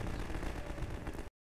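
Alternate fire shot in the video game Half-Life 2, a burst of heavy gunfire and explosive blast noise lasting about a second before cutting to silence, fairly faint overall.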